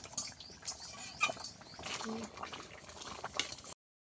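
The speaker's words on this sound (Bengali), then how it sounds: "আলু ভালো মতো সিদ্ধ হয়ে গেছে ডালও প্রায় সিদ্ধ হয়ে এসেছে" Khesari lentils and potatoes simmering in a pot, a soft bubbling and gurgling of liquid heard up close, with faint small ticks and movement, ending abruptly in silence.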